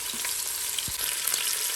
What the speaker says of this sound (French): Je viens déposer mes pilons de poulet dans la cuve.